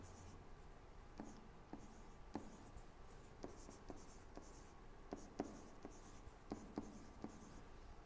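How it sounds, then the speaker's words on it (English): Pen scratching out a handwritten list on paper, a run of short faint strokes and taps with small pauses between them, close and quiet with no talking. "so I'll write these all out."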